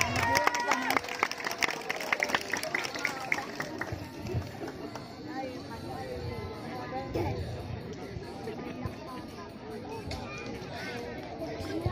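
Football supporters at a local Rawe Rengit Cup match applaud both teams amid crowd babble, with an announcer talking over the scattered clapping and cheering that fade to general murmur.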